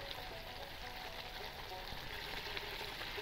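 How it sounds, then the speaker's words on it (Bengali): Eggplant yogurt curry bubbling in a pan, a faint, steady hissing simmer with soft bubbling texture that carries evenly throughout, with no other sounds over it. "তরকারিটা প্রায় ফুটে গেছে, তরকারিটা পুরো ফুটে গেছে"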